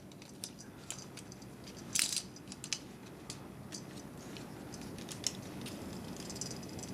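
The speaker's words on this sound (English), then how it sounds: "And you just want to snap that in place." Plastic parts of a Transformers Dark of the Moon Deluxe Class Air Raid toy clicking and snapping together, with scattered small ticks and one sharper snap close by in quiet surroundings.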